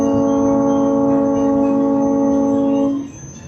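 Walt Disney World Railroad train pulling into its station, giving a loud, steady multi-tone horn or whistle blast that holds for about three seconds and then cuts off, leaving softer rumble beneath.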